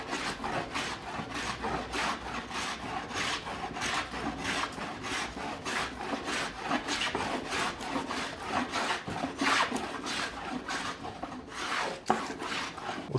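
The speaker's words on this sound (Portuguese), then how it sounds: "Você vai ver que você vai desengrossar uma tábua inteira, sem fazer esforço praticamente." A hand plane, the number 2 type, shaves thin, long curls off a wooden board in a steady run of rasping strokes, close and fairly loud and continuous throughout, with no voices.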